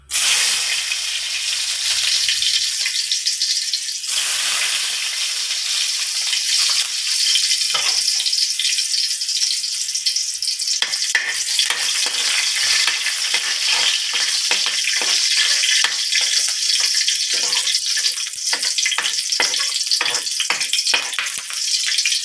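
Garlic sizzles steadily in a little hot cooking oil in a pan, a constant bright frying hiss with repeated soft stirring scrapes and clicks from a utensil.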